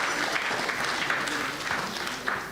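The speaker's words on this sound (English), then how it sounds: "Shall we give her another round of applause" Steady applause from a conference audience, a continuous patter of clapping that holds an even level throughout.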